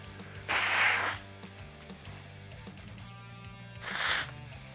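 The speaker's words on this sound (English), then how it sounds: "I'm going to blow my nose" A person blows their nose twice, two breathy, forceful honks a few seconds apart over a quiet steady background hum.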